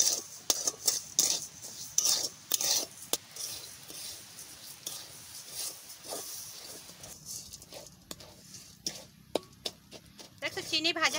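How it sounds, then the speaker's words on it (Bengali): A utensil scrapes and clinks against a pan as sugar is fried and stirred for a sweet syrup, in irregular metallic taps and scrapes close up, with faint talk in the background. "চিনিটা একটু ভাজা করে নিচ্ছি।"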